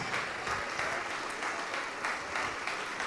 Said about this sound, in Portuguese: A igreja também vai se alegrar e aplaudir. Vamos aplaudir, igreja.